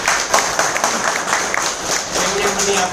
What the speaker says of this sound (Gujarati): એમના માટે એક તાળી દઈ.